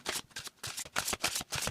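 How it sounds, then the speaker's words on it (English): A Marseille tarot card deck is shuffled up close in a quick, steady rhythm, about seven crisp riffling bursts with no talking. "let's go just shuffle it up a bit, see how it behaves"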